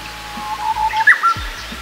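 A few quick, bright chirps of a Japanese bush warbler over steady outdoor background noise in hilly country in Hyogo, Japan, close and moderately loud, with a low rumble underneath.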